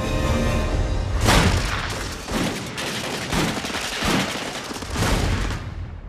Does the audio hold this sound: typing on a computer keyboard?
no